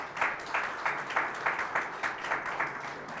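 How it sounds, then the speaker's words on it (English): An audience at a Fiji Diwali 2019 event claps together in a pulsing round of applause, a crowd of rhythmic claps fairly loud and continuous. "Can we give them a round of applause?"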